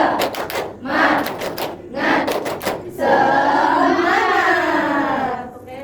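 Indonesian primary school class performing the spirit clap (tepuk semangat): several quick rhythmic clusters of claps, then a loud sustained group shout of voices.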